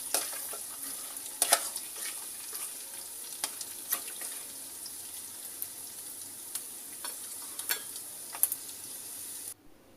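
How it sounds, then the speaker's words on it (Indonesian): A spoon stirs nasi liwet ingredients with bay leaves, lime leaves and fried jengkol, making steady close scraping and soft clinks over a constant sizzling hiss, which stops abruptly at the very end. "Semua diaduk sampai merata."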